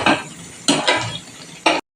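Meat is stir-fried in a pan for kosha, with three distinct scraping bursts of a spatula moving the pieces around. Each stroke is close and loud, with brief sizzling between them.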